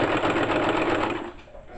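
Sewing machine running fast along the seam of ladies' panties, a loud close rapid whirring chatter that holds steady, then eases off near the end.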